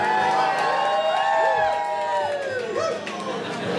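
A concert crowd cheers and whoops for a performer while a voice talks over the noise.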